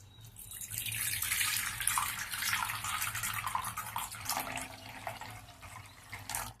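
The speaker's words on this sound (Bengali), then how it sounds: "এবার একটি পাত্রে কিছুটা জল নিয়ে নিচ্ছি" Water runs steadily into a bowl for washing fresh shelled green peas for a Bengali ghugni, a continuous close splashing rush for several seconds that eases slightly near the end.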